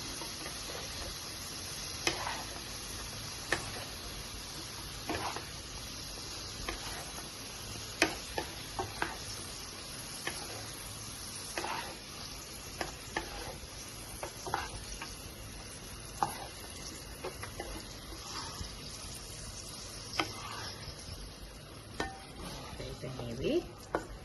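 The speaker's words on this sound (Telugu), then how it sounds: "చక్కగా కిస్మిస్లు, జీడిపప్పు ఫ్రై అయిపోయినాయి." Raisins and cashews frying in ghee in a pan for rava laddu, a steady soft sizzle with scattered clicks and taps from stirring throughout, no talking.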